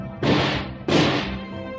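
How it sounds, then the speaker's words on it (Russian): Two heavy booming explosions from artillery guns in a Soviet-style audio fairy tale, each a sharp loud blast about half a second apart that rolls off into a long rumbling decay. "в этот момент загремели боевые орудия. Как молнии засверкали огненные взрывы"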